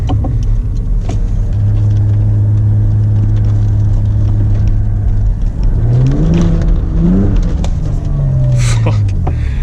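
A V6-swapped Toyota MR2 on a mountain road, engine droning loudly at steady revs inside the cabin, then rising and falling through a couple of quick revs and shifts, with constant road and wind rumble.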